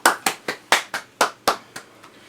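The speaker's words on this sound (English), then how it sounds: "Give yourself a round of applause" A handful of sharp, close hand claps from participants in a group move class, about nine in a loose rhythm. They start strong and space out as they grow fainter, with no talk.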